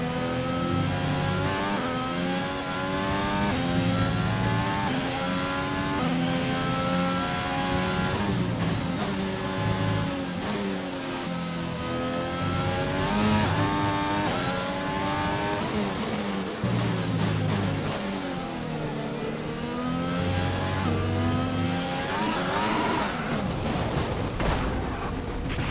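F1 race car engine from the F1 2021 video game, a high-pitched screaming whine that climbs and drops repeatedly through gear changes, loud and continuous with no talk.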